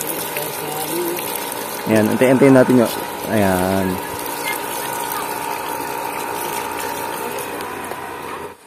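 A deep-well jet pump runs steadily, giving a continuous mechanical hum and the rush of pumped water, some of it carrying a little sand. Someone talks briefly over the sound.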